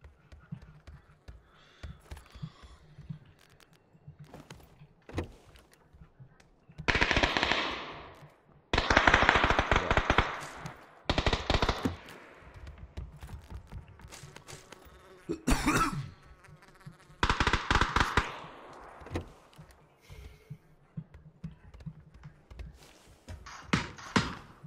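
Gunfire in PUBG, long bursts of rapid automatic shots rattling in several clusters, loud and close, with quieter scattered single shots and crackling between the bursts.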